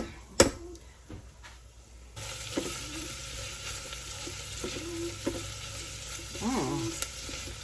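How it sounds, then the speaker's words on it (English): Onions sautéing in a pan, a soft steady sizzle that rises partway through, with occasional utensil clinks and scraping stirs close by, no talking. "That's how long it said to saute the onions"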